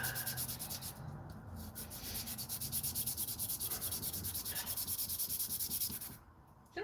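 Wood being sanded by hand through progressively finer sandpaper grits, a steady rhythmic back-and-forth rasping, close and continuous with brief pauses between strokes.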